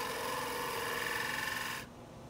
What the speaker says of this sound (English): using the spindle gouge to shape the stem